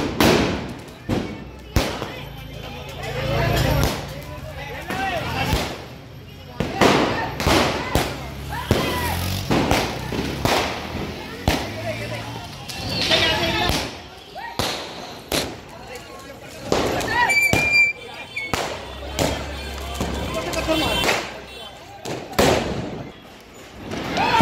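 Diwali firecrackers going off nearby in a rapid, irregular string of sharp loud bangs and pops, with crackling bursts, while people talk and shout in the background throughout.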